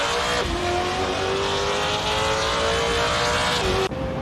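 GT4 race cars circling Laguna Seca in a racing video game, a steady loud engine drone with a sustained tonal whine that shifts pitch slightly, cutting off abruptly near the end, no voices.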